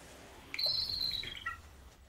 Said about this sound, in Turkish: Allah aşkına şu kuşu kapat ya.